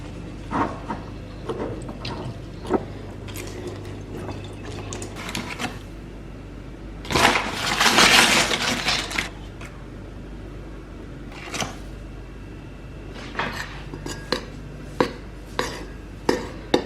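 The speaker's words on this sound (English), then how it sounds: "And we need to add in 3 teaspoons of caster sugar, and then just mix that all in." Caster sugar being mixed into scone mixture in a bowl, with scattered scraping and tapping of a utensil against the bowl and a denser stretch of stirring midway.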